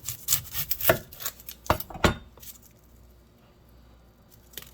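A kitchen knife cuts off the end of an onion on a cutting board, giving a few crisp, close chopping thuds and slicing sounds in the first two seconds, then near quiet.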